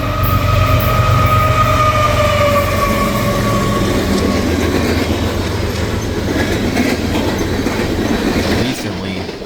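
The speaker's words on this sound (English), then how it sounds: "The next day, I would catch a CSX empty coal train being led by CSX 3440 or the Spirit of Ravenna." A CSX empty coal train led by locomotive CSX 3440 rolls past on the Rochester subdivision, a loud continuous rumble of wheels clattering over rail joints with faint horn-like tones.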